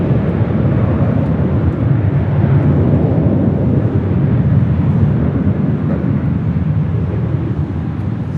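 A China Airlines Airbus A350-900 arriving at Los Angeles International Airport, a steady, loud broadband jet roar with low rumble that holds evenly throughout, with no talking.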